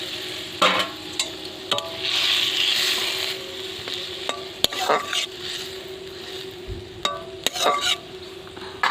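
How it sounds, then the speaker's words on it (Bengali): Fried balsam pear stirred into spices in a pan, with scraping stirs and clicks of the utensil over a steady sizzle. "এবার আমি ভাজা ঘিয়ে করলাগুলো দিয়ে দিচ্ছি এর ভিতরে"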